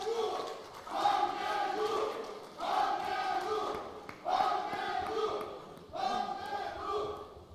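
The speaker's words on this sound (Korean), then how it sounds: "여러분 뜨거운 박수 부탁드립니다" A crowd at a party convention rally in Gangwon claps and cheers in four surging bursts, each loud and sustained, with short lulls between them.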